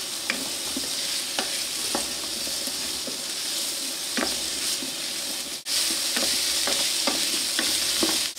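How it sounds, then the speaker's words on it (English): Vegetables sautéing in a pan for red wine short ribs: a steady close sizzle with hissing steam and occasional spatula scrapes and taps, briefly dipping before resuming louder, no voices. "I'm just kind of sauteing them for them to release some flavor before adding back the meat"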